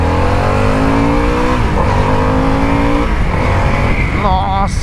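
A 2023 Harley-Davidson Sportster S 1250 motorcycle accelerates hard through first, second and third gears, the engine note climbing, dropping at each shift and climbing again, loud and close with wind rush.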